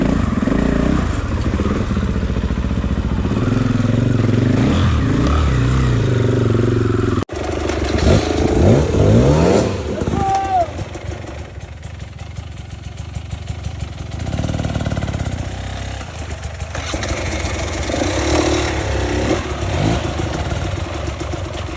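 A motorcycle engine on a hilly Golitsa track is kicked over and fires up at about seven seconds, then revs and idles loudly nearby with rising and falling throttle bursts through to the end.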